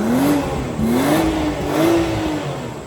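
A 2024 BMW X5 50e plug-in hybrid's B58 inline-six revs three times in quick succession, each rising engine whine swelling loudly and falling back, heard close with no talking.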